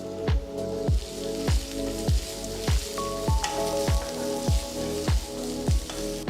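Chopped garlic, ginger and red chilies fry in hot oil, giving a steady bright sizzle broken by regular sharp knocks of a utensil striking the pan roughly every half second, close and clear.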